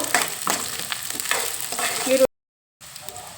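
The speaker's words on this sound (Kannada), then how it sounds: "ಈರುಳ್ಳಿ ಹಾಕ್ಕೊಂಡು ಸ್ವಲ್ಪ ಚೆನ್ನಾಗಿ ಫ್ರೈ ಮಾಡ್ಕೋಬೇಕು" Onions fry in a couple of spoonfuls of oil for a brinjal curry, a steady close sizzle with stirring scrapes that cuts out abruptly for a moment before resuming.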